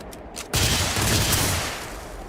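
Gunfire in Starfield bursts in abruptly after a brief lull, a dense rattling volley with a rumbling low tail that slowly fades, close and loud.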